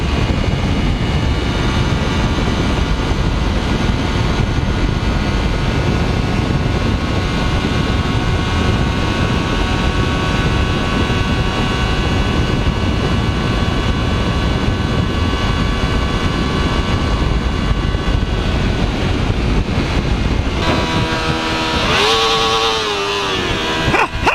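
An R25 or R6 sport motorcycle engine revs at redline on the open road, a loud, steady roar mixed with heavy wind rush that runs unbroken before easing near the end.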